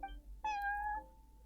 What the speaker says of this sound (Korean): 왕자님이다. 귀여워, 고양이.